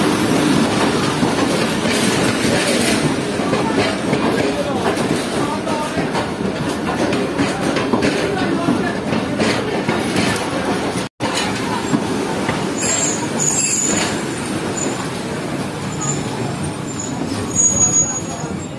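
The Shah Hussain Express, a passenger train, runs on its rails with a continuous loud rumble, rhythmic clickety-clack and squealing wheels, heard from on board for the whole stretch, with faint voices mixed in.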